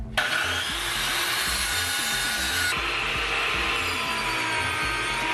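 A power saw cuts through a half-inch wood board for a car audio build, rasping loudly and steadily, close by.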